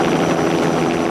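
A chartered helicopter in flight along the Blackpool coast, a loud steady rotor and engine drone with no breaks.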